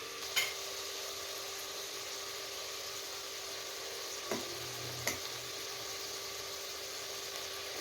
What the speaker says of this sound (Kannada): ಇವಾಗ ಇಲ್ಲಿ ಮಟನ್ ಎಲ್ಲ ಚೆನ್ನಾಗಿ ಫ್ರೈ ಆಗಿದೆ.